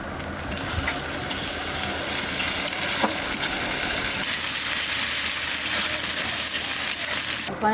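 Ginger and garlic paste hitting hot oil for a country red rooster curry, a loud, continuous sizzle and bubbling up close, with stirring clatter partway through and no clear speech.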